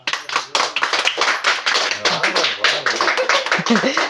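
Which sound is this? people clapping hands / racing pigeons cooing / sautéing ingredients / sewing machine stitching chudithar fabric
people clapping hands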